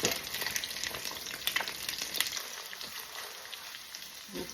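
Tortang dilis, an anchovy omelette, frying in a pan, a steady bright sizzle of hot oil with soft crackles, close and continuous, with no voices over it.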